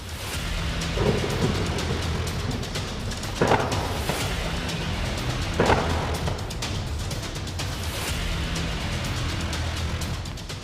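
Heavy monsoon rain pours steadily during flooding, with several loud thunder claps breaking through the continuous downpour; no voices are heard.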